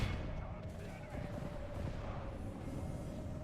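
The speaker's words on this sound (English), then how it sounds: "Oh, are they shooting at us? They are in fact shooting at us." Rapid gunfire from gunner units in the Medieval II Total War: Kingdoms strategy game crackles densely and steadily throughout, layered over a busy battlefield din with a faint voice underneath.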